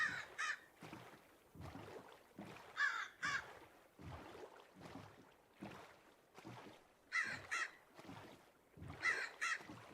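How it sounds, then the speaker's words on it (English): Crows cawing in Minecraft with the Ember and Artifice modpack: harsh caws repeat in short bursts throughout, fairly faint, over a soft watery, breezy ambience. "part of me is tempted to tame as many crows as possible"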